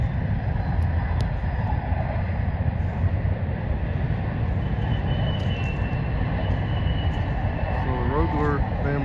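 A train moves along in the distance near a historic Kansas ranch, a continuous low rumble under wind-like noise, with a voice speaking over it.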